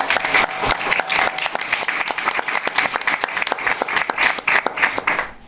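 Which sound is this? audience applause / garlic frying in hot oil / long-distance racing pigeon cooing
audience applause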